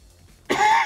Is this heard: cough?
yes